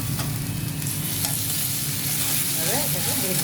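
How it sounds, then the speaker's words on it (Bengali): Ginger-garlic paste and onions fry in a pan for a chicken curry, giving a steady, close sizzle with soft stirring scrapes throughout and no voices. "আদা রসুনটা ভাজা হয়ে গেছে"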